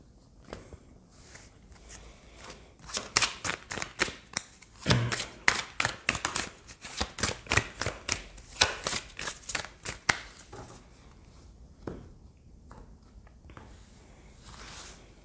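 Oracle cards handled and shuffled, a run of quick papery flicks and riffles close by, denser in the middle and thinning toward the end, with soft handling noise between.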